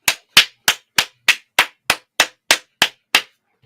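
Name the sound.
clapping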